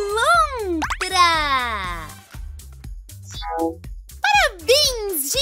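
A cartoon otter in a children's animal-sounds show gives a run of high, squeaky chirps and whistling calls, bright and close, over a steady bouncy music bed.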